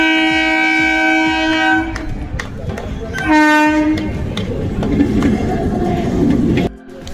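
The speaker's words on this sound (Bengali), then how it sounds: "ওই দিক থেকে একটা ট্রেন আসছে" A train horn blares loudly in two long blasts as a train rumbles past close by, wheels clattering steadily before the noise cuts off.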